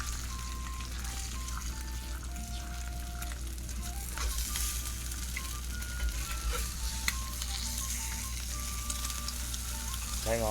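Eggs fry in a pan with a steady, soft sizzle and crackle that runs the whole time, while faint music tones play in the background.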